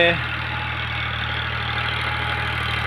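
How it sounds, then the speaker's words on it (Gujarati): A farm tractor engine runs steadily while mixing chopped green bajra fodder for cattle, a loud, even, low idling rumble close by. "હવે ટ્રેક્ટર એને ભેળસેળ કરે છે"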